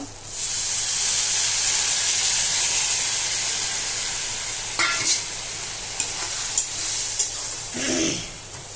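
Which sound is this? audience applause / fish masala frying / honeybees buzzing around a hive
fish masala frying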